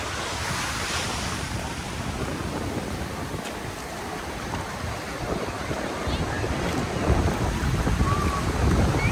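Ocean surf rolls in at Smiths Surf Beach near Cowes, a continuous loud wash of breaking waves mixed with strong wind buffeting the microphone, building slightly toward the end.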